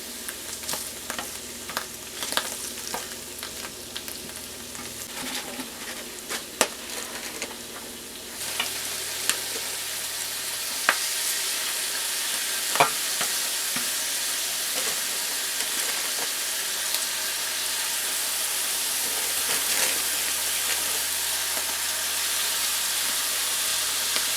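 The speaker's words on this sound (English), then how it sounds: "push the onion and mushrooms to the sides and then put your patties in the pan" Hamburger patties frying in a pan alongside onions and mushrooms pushed to the sides, from a 1973 Betty Crocker hamburger recipe; a steady close sizzle with occasional utensil clicks and scrapes.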